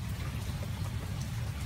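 Steady rain falls in a dense, even patter, a continuous wash of drops hitting a surface at close range with no voices over it.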